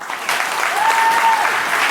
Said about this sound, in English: Polite applause.